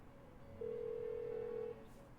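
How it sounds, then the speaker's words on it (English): A steady electronic phone ring tone from the game Persona 4 Golden sounds once as a single sustained tone lasting about a second, quiet and unanswered, with no voices. "Why won't she pick up the phone?"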